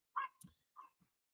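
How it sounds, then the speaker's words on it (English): A dog barks a few times, close and fairly quiet, in short separate yelps with nothing else around. "Dogs are chirping in."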